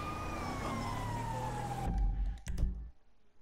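An ambulance siren in GTA wails with a slowly falling pitch, then cuts off abruptly, followed by a few sharp clicks in near silence.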